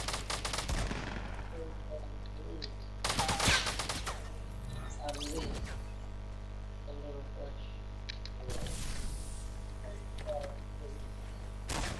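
Gunfire from the Fortnite video game comes in several quick bursts of rapid shots separated by short pauses, with faint game sounds between them.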